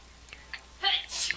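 A woman sneezes once, a sharp, airy burst that is fairly faint and slightly distant, coming after a few quiet breathy sounds.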